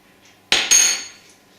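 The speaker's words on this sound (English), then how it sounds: "That's cutlery. All magneted together." Two quick metallic clinks ring out close by as pieces of cutlery held together by magnets knock together, the bright ring fading over a second.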